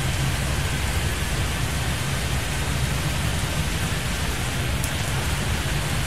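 Steady rain falling in the airport-management video game Airport Madness 3D, a dense, even hiss with a low rumbling bed that runs unbroken and loud throughout, with no voices.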